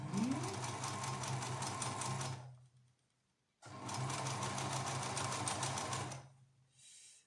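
A sewing machine stitches the seam of a fabric face mask in two steady, even whirring runs of about three seconds each, separated by a short pause, close and clear with nobody talking.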